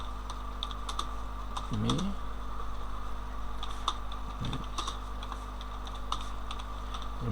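Keys tap on a computer keyboard in quick irregular bursts, close and clear, over a low steady hum, with a couple of short spoken words.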